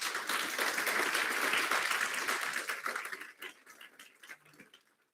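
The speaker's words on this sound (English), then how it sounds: "Let's give him a round of applause" An audience at a legal innovation summit in Johannesburg gives Prof. Katz a round of applause: dense, steady clapping that holds loud for about three seconds, then thins out and fades.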